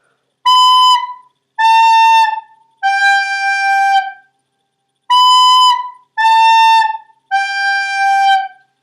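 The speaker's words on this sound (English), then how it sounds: "Now if you wanted to play the notes one right after another" A recorder plays six clear, separate notes in two groups of three, each held briefly and stepping downward, a simple melody played solo at close range.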